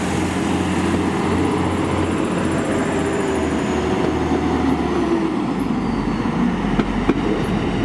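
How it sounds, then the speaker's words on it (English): A train pulls out of Liverpool Lime Street on the 13:32 service to Scarborough, unit 185125, giving a continuous loud rumble of wheels and engine with a faint rising whine and an occasional clank. "Just departing the 1332 service from Liverpool Lime Street to Scarborough via Manchester Piccadilly, Huddersfield and York."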